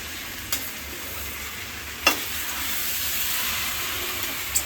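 Chicken tehari being stirred in a pot with water and milk, a steady soft hiss of heat with a few distinct spoon scrapes and clicks against the pot.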